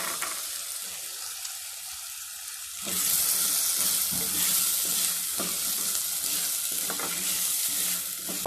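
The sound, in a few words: peas being sautéed and stirred in a pan for pulao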